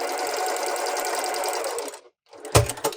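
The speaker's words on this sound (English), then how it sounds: "Go to my machine and stitch." A sewing machine runs fast and steady, stitching a quilt block close by for about two seconds, then stops briefly before a few louder knocks and handling bumps.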